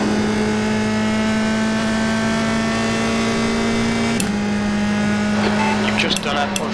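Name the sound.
USF2000 race car engine in iRacing video game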